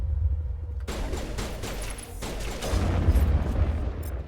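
Pistol gunfire during a firefight in Mass Effect 1 amid ancient Prothean ruins, a sustained volley of sharp overlapping shots with booms and impacts, swelling louder in the final second.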